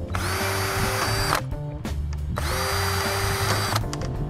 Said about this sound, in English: you'll take your drill with the 964 drill bit in it and drill four spots